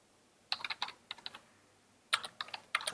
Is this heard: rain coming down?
no